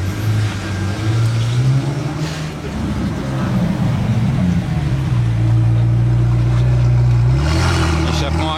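A Ferrari California fitted with an Akrapovic exhaust runs close by, a deep, throaty engine note rising and falling with revs, swelling loudest near the end, with voices talking over it.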